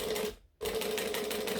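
Sewing machine top stitching a pocket, a dense steady mechanical whir that stops for a moment and then restarts, running close and fairly loud with no voices.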